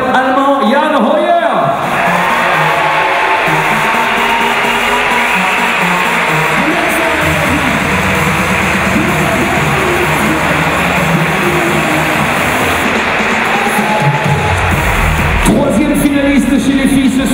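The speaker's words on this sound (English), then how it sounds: "Applaudissements s'il vous plaît pour l'incroyable Allemand Jan Hoyer" Spectators at the 2014 IFSC Climbing World Cup bouldering finals in Laval applaud and roar for German climber Jan Hoyer, a loud, dense, sustained wash of sound lasting about fourteen seconds before it cuts off.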